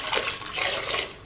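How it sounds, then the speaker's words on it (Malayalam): Hot water is poured into a cooking pot of steel-cut oats with curry leaves, a steady rushing splash lasting about a second, close and moderately loud. "ഞാൻ ചൂടുവെള്ളമാണ് ഒഴിച്ചേക്കുന്നത്."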